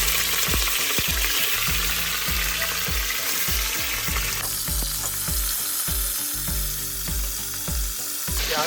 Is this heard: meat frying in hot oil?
yes